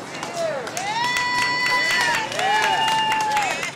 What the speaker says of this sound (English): those waiting in line cheer for the upcoming medical attention